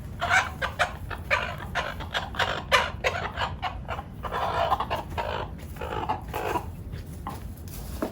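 Nine-month-old Bielefelder chickens clucking and squawking close by, a busy flock with overlapping calls in irregular bursts and no talking.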